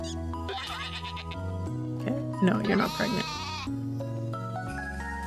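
A goat bleats in the farming game A Wonderful Life, short strained cries rising over steady game music while a person talks over it.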